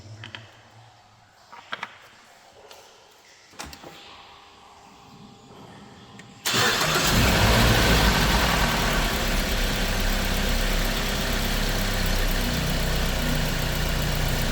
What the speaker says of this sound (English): Now I'm going to run the engine for about 15 seconds or so